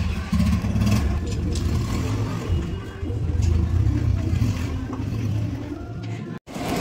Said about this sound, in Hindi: मामा बाइक निकाल रहे हैं।